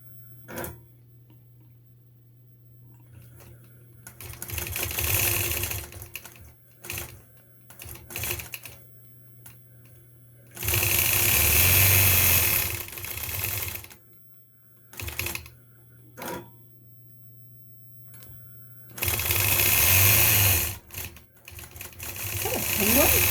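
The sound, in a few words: sewing machine stitching while machine quilting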